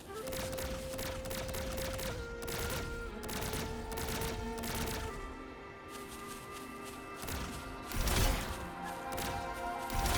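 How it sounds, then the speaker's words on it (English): Explosion in Wuthering Waves blasting open a blocked path with tacitite fulminate, heard as a rapid series of sharp crashing bursts and thuds, fairly faint, with a bigger blast near the end. "Perhaps we can create an opening in this disk with an explosion"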